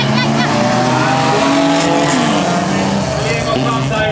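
Folkrace cars, including Saab, BMW and Volvo entries, race together at a Tomelilla event, engines roaring loudly and continuously with shifting revs and tire noise while an announcer talks over them.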